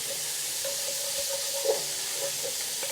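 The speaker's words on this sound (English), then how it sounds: "We are just really sweating these vegetables." Chopped vegetables sweat and sizzle in a pan as the base for red wine braised short ribs, a steady close hiss of frying with a few soft stirring taps, no voices.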